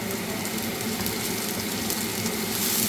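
A ginger, garlic and onion paste fries in a pan for Bengali-style mustard chicken, giving off a steady, close, hissing sizzle without pause.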